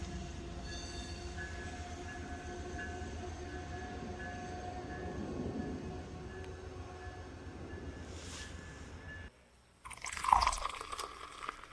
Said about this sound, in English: this train is on its way to Toronto, Ontario.